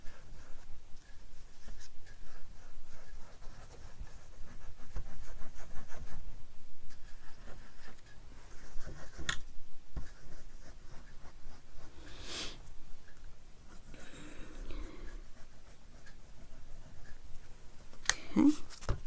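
Pen scratching as a label is written on a piece of paper for a tag craft project, a long run of close, soft scribbling strokes with occasional taps and rustles of paper.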